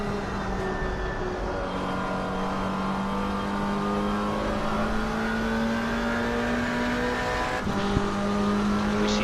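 GT3 and GT4 race cars in a multiclass race at Watkins Glen in a racing video game, engines droning steadily with rising and shifting tones and a brief shift-like break near the end, continuous and fairly loud with no talk.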